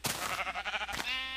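A sheep in Minecraft gives one short wavering bleat, close and clear, with no talking.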